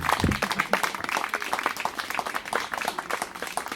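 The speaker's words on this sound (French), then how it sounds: "Eh bien, merci et applaudissez-vous." Audience at an outdoor nature celebration applauding, a dense wash of many hands clapping at once, steady and moderately loud throughout, with no clear voices over it.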